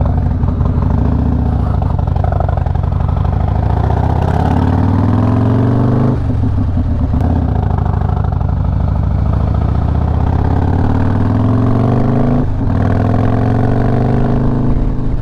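Harley Road Glide motorcycle engine running close and loud, a deep lumpy V-twin rumble that rises and falls in long revving swells, with two brief dips as the throttle is blipped.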